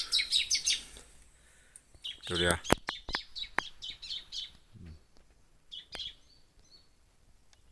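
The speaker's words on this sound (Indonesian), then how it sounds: "Di sini ada suara burung jiblek" Jiblek bird calling near a wild predator bird's nesting area: quick bursts of high chirps at the start, then scattered sharp calls later, with someone speaking briefly in between.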